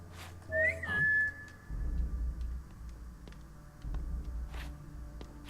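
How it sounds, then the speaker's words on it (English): A short rising two-note whistle from a character in Assassin's Creed Chronicles China, clear and close, followed by quiet in-game ambience with faint ticking and rumbling. "see what happens when I whistle"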